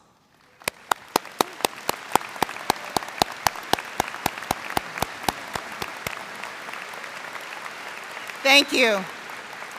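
A commencement crowd applauds military service members standing on Armed Forces Day: many hands clapping steadily under a series of sharp, regular clicks, then a voice briefly speaks near the end.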